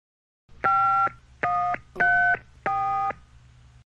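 Telephone keypad dialing tones sound as four clean, evenly spaced beeps, each about half a second long, loud and alone over a faint low hum.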